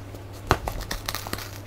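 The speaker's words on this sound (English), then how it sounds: "I'm going to utilize this nifty pair of scissors to penetrate through the box" Scissors snipping and tearing into a cardboard box, several short crinkly cuts close by with one sharper snap, quiet and alone.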